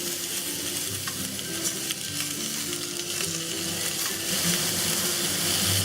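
Prawns sizzling in a hot pan with steady, dense frying crackle, close and continuous throughout, with faint scraping from stirring or flipping; no voices.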